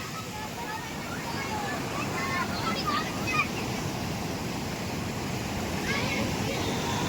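Floodwater rushes continuously in a steady broadband roar during monsoon rain, with faint voices in the distance now and then.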